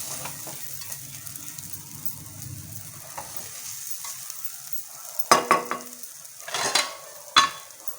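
Raw banana puttu is stirred in a pan at home. A soft sizzle runs underneath, and a few sharp scrapes and clinks of the utensil come near the end.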